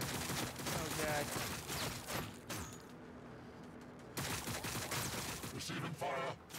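Rapid gunfire bursts in Warhammer 40,000: Battlesector, crackling and dense for a couple of seconds, breaking off into a lull, then resuming, mixed with game speech and effects.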